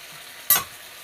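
A single sharp sizzle as chopped tomatoes drop into hot oil for a tomato koottu, bursting loud and close then fading quickly, with no voices.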